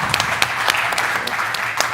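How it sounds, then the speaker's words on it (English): Audience applause at a country session panel, steady broadband clapping from a room of people sustained through the whole short stretch at moderate level. "please let's give them a round of applause"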